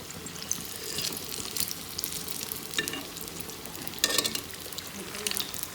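Kadhi simmering in a pot on low heat, a soft continuous bubbling hiss with occasional louder pops and spoon stirs, fairly quiet and close.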